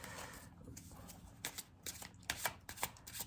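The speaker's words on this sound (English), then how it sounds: "let me sort out the cards" Tarot cards being shuffled and sorted by hand: soft, close riffling and a cluster of quick flicks and taps, faint and without talk.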